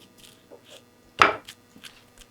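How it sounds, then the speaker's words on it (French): A knife chops chili pepper, finely mincing it, for a Lao duck larb: one loud close cut stands out among a few softer, quieter taps. "Un peu de piment bien haché"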